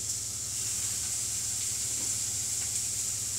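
Sausages sizzling in a frying pan greased with spray oil, a close, continuous hiss with faint crackle and no talk.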